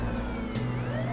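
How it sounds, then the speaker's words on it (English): A police car siren wails as several police cars drive by a house in pursuit, a brief wavering tone over engine noise. "we see 3 police cars in pursuit as they drive by Bert and Malina's house"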